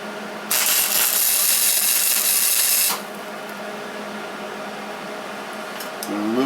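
Tack weld on a car control arm during a repair, a loud steady hissing crackle lasting about two and a half seconds before cutting off to quiet workshop background.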